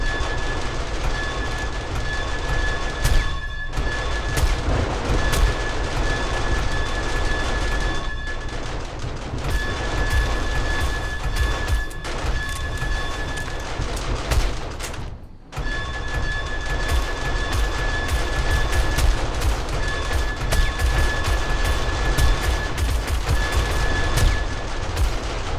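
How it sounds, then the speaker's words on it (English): Rapid bursts of explosions and gunfire rattle continuously through a zombie horde night in the video game 7 Days To Die, loud and dense over a rumbling background, with one brief dip before the barrage resumes. "I see the bombs going off."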